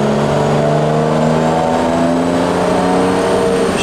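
Engine of a turbocharged BMW E30 M3 holding a loud, steady high-idle drone with a slowly rising pitch, close and continuous with no talking.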